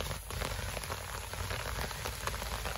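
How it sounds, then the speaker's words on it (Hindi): Winter rain falls steadily on the ground and leaves, a dense, close patter of drops with no break and no voices. "जमीन की प्यास इतनी सी बारिश से नहीं बुझती है जो हमारे पास हुई है।"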